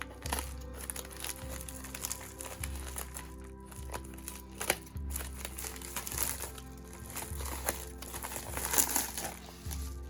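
A package is opened up close, with plastic wrapping crinkling and crackling in irregular bursts against a steady low background hum, and no talking.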